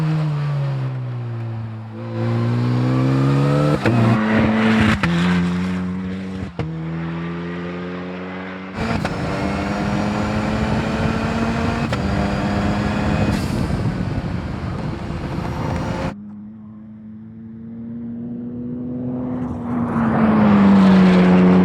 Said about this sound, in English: There is something just terrifying about driving an Ariel Atom.